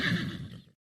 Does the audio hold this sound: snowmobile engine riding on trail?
no